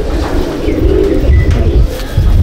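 Close, loud cooing from pigeons kept in a loft, throaty rolling calls overlapping continuously with a low murmuring rumble underneath.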